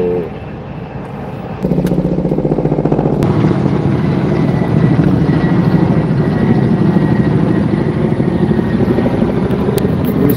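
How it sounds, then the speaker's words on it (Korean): A firefighting helicopter hovers nearby while scooping water during wildfire support in Gunwi, Gyeongbuk. Its heavy rotor beat throbs loud and continuous, with the pulsing growing stronger after the first couple of seconds. "모든 헬기들은 여기서 지금 물을 다 뜨고 있네요"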